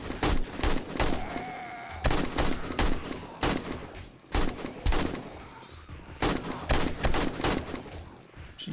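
Machine gun fire in 7 Days to Die rattles in long, loud, dense bursts, several sustained volleys separated by brief pauses, close and dominant over faint background noise.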